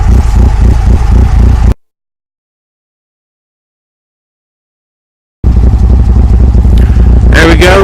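A freshly built 2-liter turbocharged DSM engine idles during break-in, a steady loud rumbling drone with a gap of silence midway, then resuming with some voice-like sounds.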